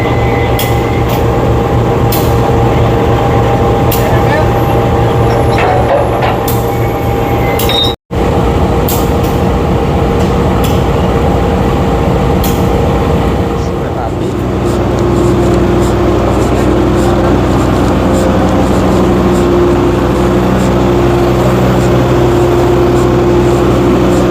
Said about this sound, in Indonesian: Tepat pukul 11:10 kereta api Airlangga diberangkatkan dari stasiun Pasar